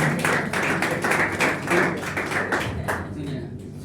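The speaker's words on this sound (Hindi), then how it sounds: "तालियां बजती रहनी चाहिए" An audience at a Hindi poetry recital claps steadily in a loud, rhythmic beat that fills the hall, with a voice speaking over it.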